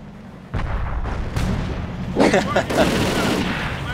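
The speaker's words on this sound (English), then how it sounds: "unfortunately get barraged yet again by these Stukas. decimating the infantry" Stuka dive bomber barrage in a video game hammers infantry, a run of heavy booming impacts and blasts that grows denser and louder toward the end, under a voice talking.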